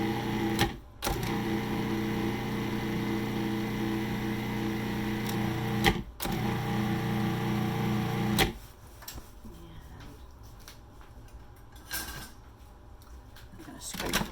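A food processor pulses butter into biscuit dough, its motor whirring steadily in long bursts with brief stops between them, close and loud, then the blade cuts off and the machine falls quiet.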